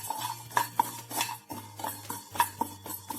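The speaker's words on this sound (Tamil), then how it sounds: "கொஞ்சம் பாசி பயிர் போட்டுக்கிறேன். அதையும் லைட்டாக வறுத்துக்கலாம்." Green gram is dry-roasted in a pan while a spatula scrapes and stirs it. Soft rhythmic scraping and clinks repeat over a faint low hum, quiet and close.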